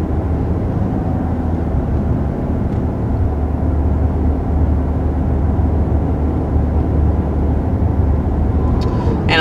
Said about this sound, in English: I do hear a little bit of wind noise, but it's pretty windy today.